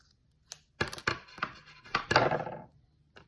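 Snipping string for a DIY rainbow diffuser keychain, a few close, crisp clicks and rustles of handling followed by a short burst of quick snipping and fiddling, quiet and without talk.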